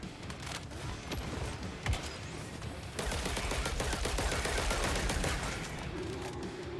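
Rapid fire from the Artemis medic gun in Killing Floor 3, a dense, fast, continuous stream of small popping shots that grows louder and busier midway, with chaotic combat noise around it and no talking.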